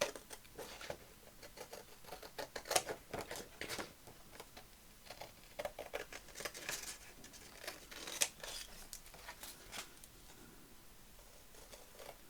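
Paper is cut with scissors during card-making for a Christmas front cover, giving quiet, intermittent snips and rustles with a few sharper clicks across the stretch.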